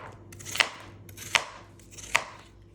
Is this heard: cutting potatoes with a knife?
yes